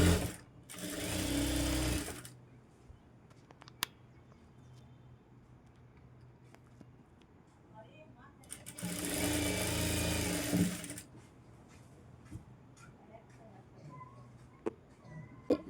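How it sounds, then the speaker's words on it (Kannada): A sewing machine stitching along the edge of a shortened petticoat runs in two loud, steady bursts of about two seconds each, separated by quieter pauses with faint handling clicks. "ಇದು ಎಡ್ಜಿಗೆ ನೀಟಾಗಿ ಸ್ಟಿಚ್ನ ಹಾಕೋಬೇಕು"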